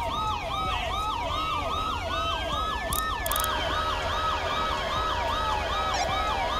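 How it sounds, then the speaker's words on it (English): Police car siren in the GTA LSPDFR video game, wailing loudly and continuously with a fast rising-and-falling yelp over engine and road noise throughout. "Oh my god, turn your siren off!"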